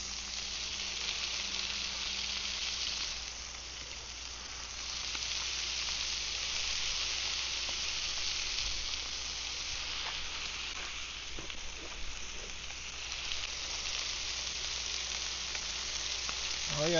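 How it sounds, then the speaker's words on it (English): Mahi fish sizzling steadily in melted butter on a grill, a continuous loud frying hiss that holds throughout with no talking. "Now we're going to throw this mahi on here."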